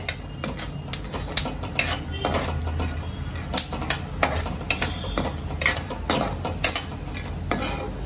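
A spoon scrapes roasted peanuts and ingredients out of an iron kadhai onto a plate while making Solapuri shengdana chutney, with close repeated metallic clinks and scrapes in an uneven rhythm and no talking.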